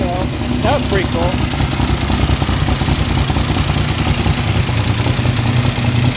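A Triumph T595 motorcycle with an off-road exhaust idles steadily nearby, a loud, even low rumble with slight clatter, while a person speaks briefly over it near the start.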